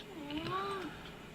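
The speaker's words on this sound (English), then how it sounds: "Cat." A single cat meow, clear and fairly close, rising and then falling over about a second against quiet room noise.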